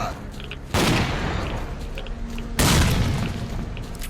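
Two heavy, booming grenade blasts from Stalker: Clear Sky hit about two seconds apart, each loud and close, with a rumbling tail and gunfire mixed into the din.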